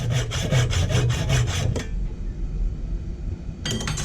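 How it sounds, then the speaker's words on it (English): A Sawzall reciprocating saw cuts through wood while building a coffee table, giving a rapid rhythmic rasping buzz for about two seconds before stopping, then starting again briefly near the end. "Get Mr. Sawzall back, cut that off, and we'll do the other side."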